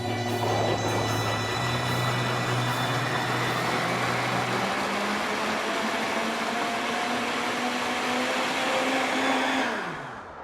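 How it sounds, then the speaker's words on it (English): Breville blender pureeing fermented homemade hot sauce, a loud, steady motor whir with shifting pitch as the contents smooth out, running close and alone for about ten seconds before spinning down. "You just want to puree it until it's very smooth."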